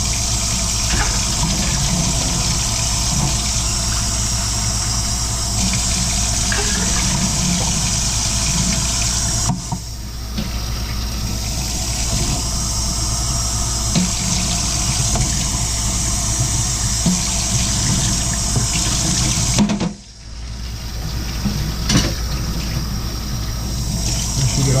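Warm tap water rushes steadily over a trumpet being rinsed, a loud, close, continuous hiss with two brief dips where the flow breaks.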